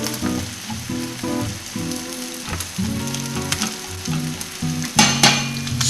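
A steak searing in a hot pan gives a loud, continuous sizzle and crackle, with a few utensil clatters and bumps, and no talking.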